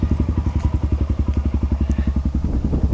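A Kawasaki KLX140L dirt bike with new carburetor jets warms up at idle close by with a fast, steady, throbbing putter, loud and unbroken for the whole stretch.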